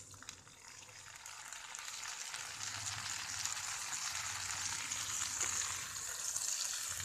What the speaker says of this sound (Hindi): अब हम इसमें टमाटर डाल देंगे।